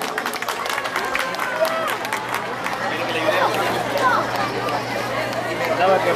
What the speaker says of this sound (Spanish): El aplauso fuerte para ella.